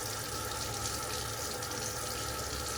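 Tap water runs in a steady, faint, continuous hiss during a wet shave, with no other sounds over it.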